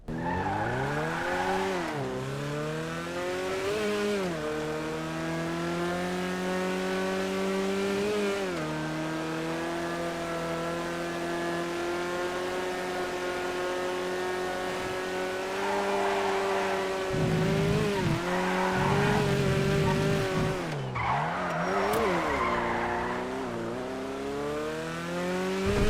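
A car on a test drive revs and accelerates with a steady engine drone rising and falling in pitch, broken by bursts of tire squeal and skidding through the turns, loud and close throughout.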